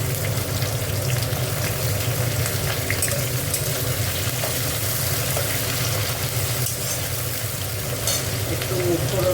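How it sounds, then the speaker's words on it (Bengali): Onion frying in a pan after chopped garlic, for a red amaranth leaf dish, giving a steady, close sizzle with a low rumble running throughout. "দেখো, এবার পেঁয়াজটা দিয়ে দিলাম।"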